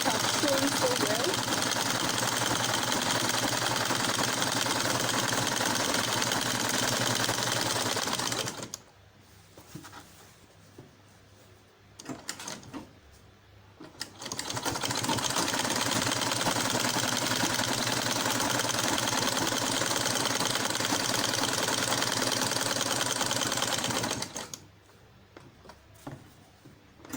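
A sewing machine stitching Ankara fabric for a smocked tube crop top runs in long steady mechanical bursts, roughly eight seconds each, broken by short quiet pauses, with no talking over it.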